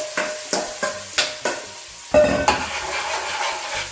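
A large onion dropped into hot vegetable oil, a run of short scraping stirs followed by a steady sizzle that swells and holds, close up with nobody talking.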